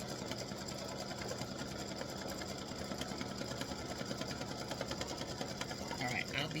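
A machine embroidery run stitching an edge-to-edge butterfly and hibiscus design, giving a steady, dense mechanical whirr with rapid needle rhythm throughout, close and constant, with a voice faintly present underneath.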